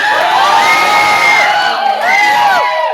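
A large crowd cheers and shouts loudly together, voices rising in a sustained roar with a brief dip before swelling again.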